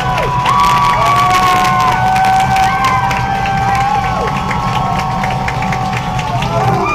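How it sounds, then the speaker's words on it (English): Crowd noise at a high school football game, Scotts Hill against Irish: sustained cheering, shouting and whistling from packed stands with children's voices, steady and loud throughout, with a few whoops rising over the din. "And listen to the crowd. I haven't heard like this in years and years."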